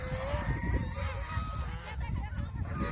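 Geese on a goose farm give a run of nasal honks, quiet and a little distant, several birds calling over one another across the whole moment.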